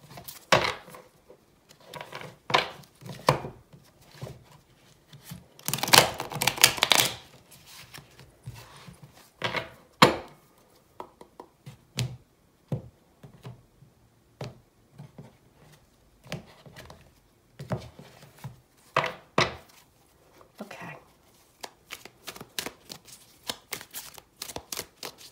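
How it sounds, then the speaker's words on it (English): Riffling and bridging of a tarot card deck, rapid papery flutters and taps in bursts with pauses between, close by, with no voices. "So I'm just going to give these a quick shuffle"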